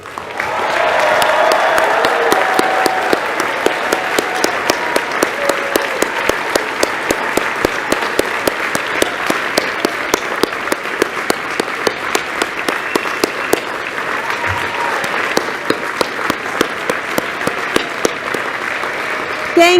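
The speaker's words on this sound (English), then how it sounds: "Now I ask that the families of students graduating today stand and be" A large commencement audience gives sustained applause for the families of graduating students, with a thick wash of clapping and some individual claps standing out near the end, and it fades slightly toward the finish.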